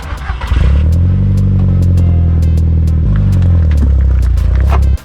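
An Audi TT's engine idles and pulls forward at low speed while being driven up onto ramps, a loud, close, steady rumble with slight rev changes and a faint clatter.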